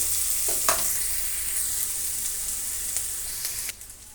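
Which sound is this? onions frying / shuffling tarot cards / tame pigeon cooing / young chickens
onions frying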